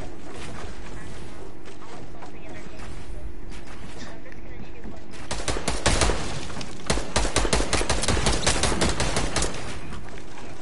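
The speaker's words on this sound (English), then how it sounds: "Wait, Alex, why are you shooting at me?" Gunfire in a Fortnite-style shooter game: rapid, loud bursts of shots cut in hard halfway through and repeat in dense volleys, with players talking over the fighting.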